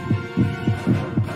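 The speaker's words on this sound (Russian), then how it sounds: "Я должен контролировать сердцебиение, иначе он услышит у меня." Heartbeat sound effect in a Poppy Playtime animation, five steady low thumping beats about every quarter second, loud and close over a faint hum.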